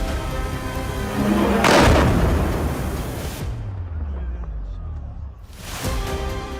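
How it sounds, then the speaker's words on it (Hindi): A blast near Nakhchivan International Airport in news footage: a loud broadband boom swells around the second mark, followed by rumbling low-end turbulence and a second burst near the end, with no speech. "नक्चीवान इंटरनेशनल एयरपोर्ट के पास गिरकर फट गया।"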